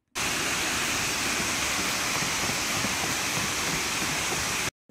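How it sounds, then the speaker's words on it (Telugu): Brandywine Falls waterfall heard from the bottom of the hiking steps: a loud, steady, close roar of falling water that holds unchanged from start to finish, with no voices. "ఫైనల్లీ ఇదే మన వాటర్ ఫాల్."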